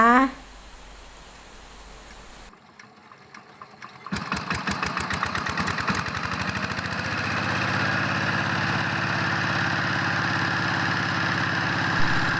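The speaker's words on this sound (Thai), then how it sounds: "เราจะใช้เครื่องทุ่นแรงในการที่จะเอาน้ำขึ้นมาใส่ปั๊มก็คือเครื่องตัดหญ้าค่ะ" A small grass-cutter engine driving a small volute water pump sputters to life after a brief pause, then settles into a steady, loud running drone close by.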